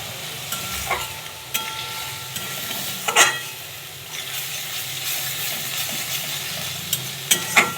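Spice paste with salt frying in oil for rohu fish curry, a continuous close sizzle with occasional louder scrapes and knocks of a spatula against the pan, no voices.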